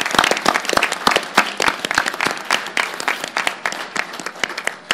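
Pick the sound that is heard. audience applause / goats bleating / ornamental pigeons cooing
audience applause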